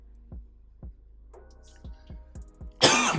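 A single sharp cough bursts out near the end, close and loud, after a stretch of quiet low thumps.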